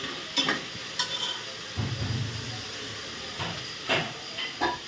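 Ginger garlic paste sizzles in a hot pan at home, a soft low frying hiss broken by a few stirring scrapes and clinks, fairly quiet with no talking.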